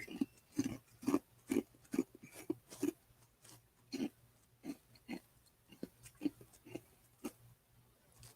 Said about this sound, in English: Sorry, I was chewing the ice.